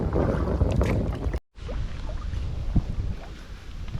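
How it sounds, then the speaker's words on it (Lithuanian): A headwind on the Nemunas river buffets the microphone of a kayaker paddling near Alytus: a rough, low rumble of gusts, broken by a short dropout, with faint water splashes underneath. "Šiandien priešinis vėjas mus truputėlį tikrai"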